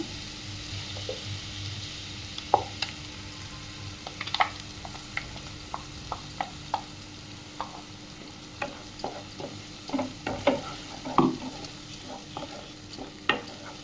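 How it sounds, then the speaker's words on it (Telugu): Ginger garlic paste frying in a pan for a mushroom curry, a soft steady sizzle with scattered crackles and pops and light stirring, no talk. "పచ్చివాసన పోయే వరకు ఫ్రై చేద్దాము అల్లం వెల్లుల్లి చూడండి అల్లం వెల్లుల్లి వేగిపోయింది"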